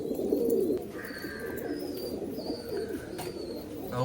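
Homing pigeons in a loft coo in soft, repeated throaty rolls, close by, with a few faint chirps and clicks in the background.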